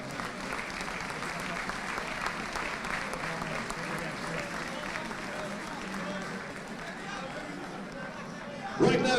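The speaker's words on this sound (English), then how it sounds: "let's give him a big round of applause as well." A large crowd at a schools rugby cup final ceremony applauds a referee receiving his medal, continuous dense clapping mixed with crowd chatter, holding steady with a louder burst near the end.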